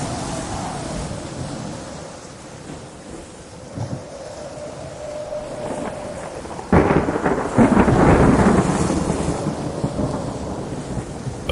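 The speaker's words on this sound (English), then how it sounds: "Storms rose without warning." Rain falls steadily while thunder rumbles, swelling into a loud, heavy roll partway through before slowly fading.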